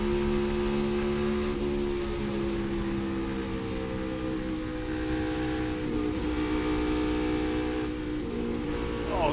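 A NASCAR Cup Series car engine at Kansas Speedway roars steadily under throttle, heard from onboard as a loud continuous drone with rising and shifting tones and no voices.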